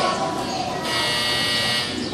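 A harsh electronic quiz bee buzzer sounds continuously for about two seconds, steady and fairly loud, with faint background chatter.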